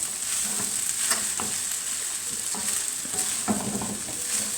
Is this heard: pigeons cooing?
no